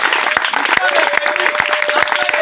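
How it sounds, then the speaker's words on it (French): Church congregation applauding and cheering during a Saturday prayer gathering, a dense steady wash of clapping with scattered sharp claps and a sustained voice or tone running through it. "Est-ce que tu peux monter avec des acclamations?"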